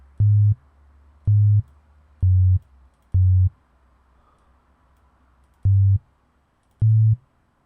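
Ableton Operator synth sequence for tech house, with six short, punchy sub-bass notes in an uneven repeating pattern, each with a sharp click at its onset, separated by near silence.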